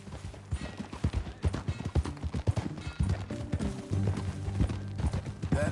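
Horse hooves clatter in a rapid, uneven gallop in the Western video game Red Dead Redemption 2, close and prominent, with dull thuds and some rumbling background game sound.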